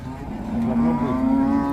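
Close, sustained mooing from a cow at a crowded cattle haat, a steady droning low that swells and holds over faint background market noise.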